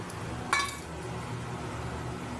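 A lid set down on a pot of shukto, the Bengali mixed-vegetable dish, gives a single short clink of metal, then a steady low hum of kitchen background carries on.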